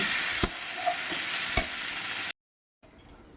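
Mustard seed and cumin tempering sizzles in hot oil in a pan, a steady close crackling hiss with a few sharp pops, then a sudden cut to silence and a faint quiet tail.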